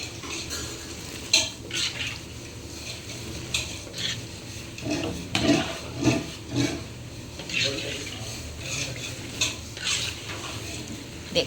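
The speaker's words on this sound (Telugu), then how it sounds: "ఇగో ఇలా కలర్ వచ్చేదానికే ఫ్రై చేసుకోవాలి, ఆయిల్ ఫ్రై." Bread pieces are fried in oil for double ka meetha, with stirring and the clink of a utensil against the pan over a soft sizzle; irregular scraping bursts recur throughout.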